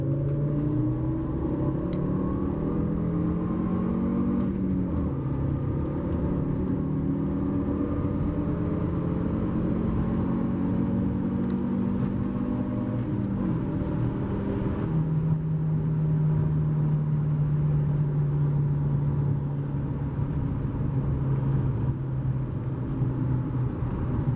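A Fiat Marea 2.4 20V engine accelerates through a long run of gears, its droning note rising and dropping at each shift, steady and loud from inside the car with no talk.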